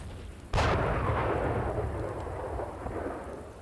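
In a military war video game, a missile fires at enemy tanks with a sudden loud roaring blast. A long rumbling tail follows and fades slowly over the next few seconds.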